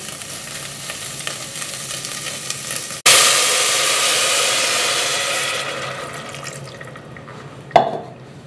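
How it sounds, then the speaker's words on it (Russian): Broth pours into a cooking pot of browned meat for azu, a sudden loud rushing splash that settles into a steady sizzling hiss and tapers off, ending with a short clink. "Добавляю бульон."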